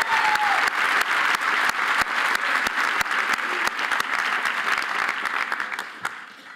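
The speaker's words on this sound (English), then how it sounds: "Please give a special round of applause for our division chair." Audience applause at a Southern Vermont College commencement, a broad wash of clapping held steady for several seconds before thinning out and fading near the end.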